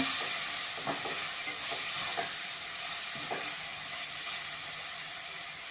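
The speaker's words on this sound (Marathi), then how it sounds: "डाळीचं पीठ आहे त्यामध्येच घालते म्हणजे छान भाजलं जाईल ते सुद्धा त्यावरच हा कांदाही घालते आहे" Finely chopped onion fries with gram flour in a pan, giving a loud, steady close-up sizzle with a few soft stirring scrapes and taps, no talk.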